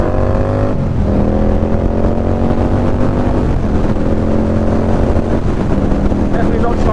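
An Indian Scout Bobber cruiser motorcycle accelerating, its engine note climbing through gears with steady rising pitch and brief drops at shifts, loud and continuous with wind rush.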